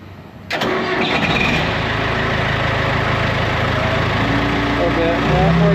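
A John Deere 450G dozer's diesel engine cranks and catches, then settles into a steady, loud, close idle that holds to the end, with a brief rise in pitch near the finish.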